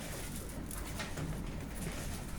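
Pigeons cooing softly in Rza's loft, a faint, low murmur of coos buried in steady background hiss, with no voices.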